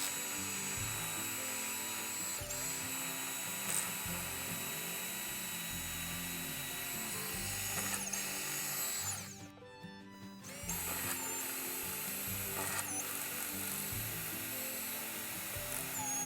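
Power drill boring a hole through the body of a van while fitting steps, a steady high whine running almost throughout, briefly cutting out near the middle before resuming.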